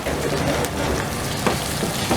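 Tomatoes frying in a chicken handi masala, a steady loud sizzle with faint stirring scrapes and no talking.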